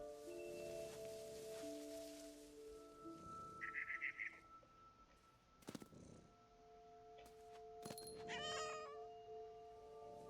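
A cat in the video game What Remains of Edith Finch meows several times, short close calls among sparse game ambience, tonal hums and a few sharp clicks, with no talking.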